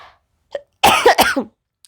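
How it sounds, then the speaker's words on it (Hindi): A short, sharp cough bursts out after a couple of faint breathy sounds, close and clear against silence. "सॉरी अगर बीच में खांसी हो तो"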